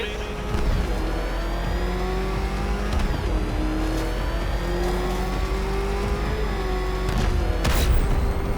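A Batmobile engine in Batman: Arkham Knight revs and roars continuously and loudly, with rising and falling pitch sweeps and a few heavy thuds and crashes along the way, while a voice talks over it.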